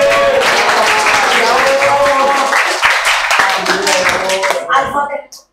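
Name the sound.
classroom applause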